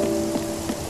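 Steady rain in the video game Spiritfarer, a continuous soft patter under a low tonal hum, with a couple of slightly louder splashes.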